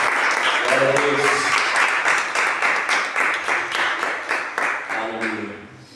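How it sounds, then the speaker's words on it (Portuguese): Church congregation clapping in praise during a worship service, a dense run of steady rhythmic claps lasting several seconds with voices and singing mixed in beneath, fading slightly toward the end. "Que as palmas louvem o Senhor."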